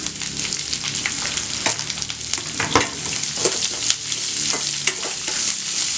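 Onion, ginger, green chili and curry leaves fry in a pan with a steady close sizzle, while a spoon stirs intermittently with light scraping clinks.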